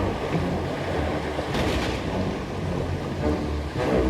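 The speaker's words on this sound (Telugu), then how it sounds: "అలలు యువరాజు పడవను పడగొట్టడం ప్రారంభించాయి." Stormy sea waves pounding against a small boat in a thunderstorm: a steady, full roaring wash of surf and wind with surging swells, no voices.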